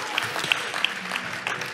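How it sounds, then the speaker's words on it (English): An audience at a faith testimony talk gives a brief burst of scattered clapping, with sparse individual claps standing out over a murmur. "You can clap for that."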